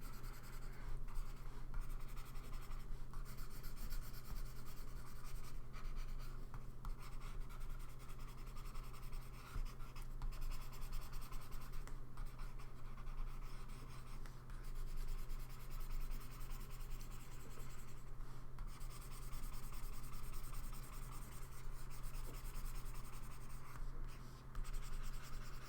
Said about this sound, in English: now I can go even darker pencil, go for a 6B pencil